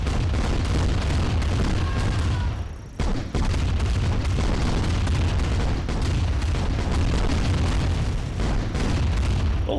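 A huge ion cannon strike in Command & Conquer Tiberium Dawn, a loud sustained roaring blast that briefly drops out after two seconds, then continues as heavy rumbling explosions to the end.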